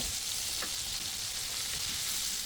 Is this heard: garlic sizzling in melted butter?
yes